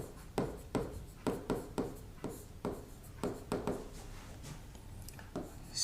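Pen writing notes on paper, a close series of quick scratchy strokes in short irregular bursts with small pauses between, alone and without talk.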